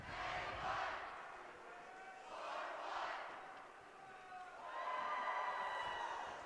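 Student section cheering at a high school boys hockey game in an arena, a crowd shouting in three rising and falling waves, loud and reverberant, the last swell the strongest.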